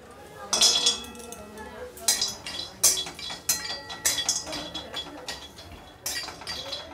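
Licorice root being ground into powder, producing a run of rattling, grinding bursts with metallic clinks that start and stop several times, loud and close.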